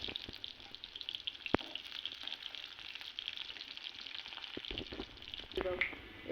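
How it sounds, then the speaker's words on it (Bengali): Onions frying in hot oil give a soft, steady sizzle with a sharp clatter near the start and a few clinks later, heard faintly at moderate distance. "এখানে তেল দিয়ে দিয়েছিলাম আর তারপরে পেঁয়াজ দিয়ে দিচ্ছি।"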